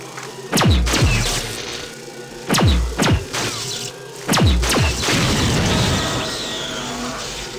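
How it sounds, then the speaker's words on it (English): Rockets fired by a turret in System Shock 2 burst in three heavy, booming blasts spaced about two seconds apart, each with a falling whoosh, followed by crackling debris and rumble. "I've got to take out this turret first. Because it's shooting rockets at me."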